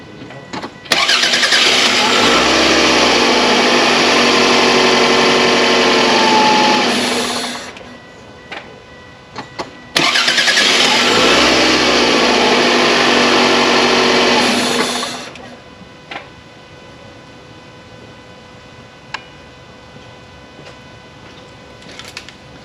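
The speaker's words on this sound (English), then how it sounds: "So the Hulkman started the car without the battery connected to the car as well." Twice in a row, a car is cranked over with a Hulkman Alpha85 jump starter while its own battery is disconnected. Each time the starter whirs for several seconds until the engine catches, and quiet clicks and pauses follow.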